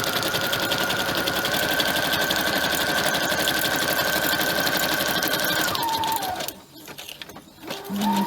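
A sewing machine stitches through paper in a steady fast whir, loud and close, then halts and changes direction for a backstitch, restarting briefly after a short pause.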